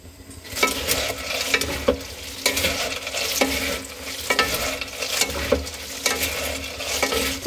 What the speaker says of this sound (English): stir fry it in a large wok